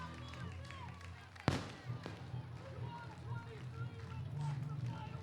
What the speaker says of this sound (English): Bulls hoping the fireworks will happen on the field as they cascade above the field